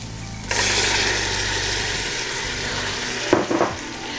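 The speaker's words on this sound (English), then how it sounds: "we're going to add our red beans in" Small red beans dropped into a hot pot to sauté, setting off a loud, close sizzle that holds steady and then eases, with a couple of clinks near the end.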